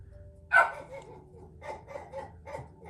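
A dog gives a single sharp bark close by, then the room stays quiet apart from a low steady hum.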